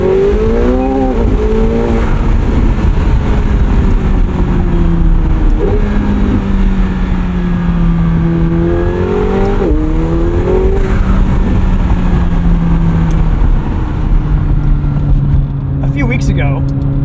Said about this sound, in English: sweet engine sound